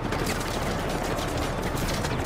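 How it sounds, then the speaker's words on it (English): Rapid gunfire from the video game Just Cause 3 during an assault on a military base, a dense, continuous roar of shots that fills the whole moment at close range without a break. "People are shooting me"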